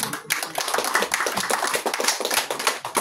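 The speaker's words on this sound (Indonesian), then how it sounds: "Tepuk tangan dulu." A crowd of supporters at a local legislative campaign rally in Lembata claps hands, loud and close, a dense steady patter of many individual claps with no talk over it.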